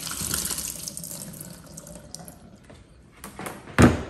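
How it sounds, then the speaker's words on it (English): Dirty water from a warm/cool mist humidifier is poured out into a sink, a steady splashing gush that thins to trickles and drips before a final louder splash, close by and with no voices. "So we're gonna go dump out this nasty water."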